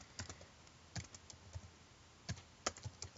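Sporadic keystrokes on a computer keyboard, a few quick clusters of clicks separated by pauses, close and fairly quiet with no talking.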